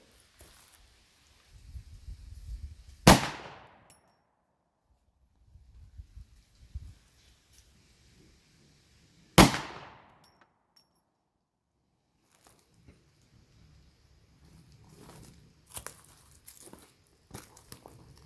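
Two loud, sharp .50 AE Desert Eagle pistol shots at a shooting range, several seconds apart, each a sudden blast with a quick decay, separated by quieter handling noise and faint movement.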